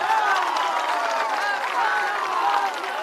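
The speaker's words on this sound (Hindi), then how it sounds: "बजा लो ताली जिसको बजाना है।" Open-air crowd at a political rally in Bihpur, Bhagalpur, Bihar, clapping and cheering steadily throughout, dense and moderately loud, with voices mixed into the crowd noise.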